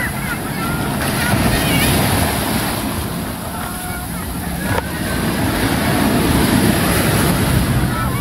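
Strong ocean waves crash and wash onto a beach in a loud, continuous surf roar with heavy wind buffeting the microphone, close by throughout.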